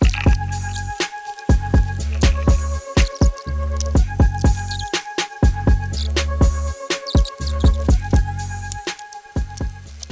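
Water drips steadily from a coolant pipe just pulled off a Rover SD1 engine during an EFI fitting, a rhythmic series of sharp, close plinks repeating every half second or so, with no talking.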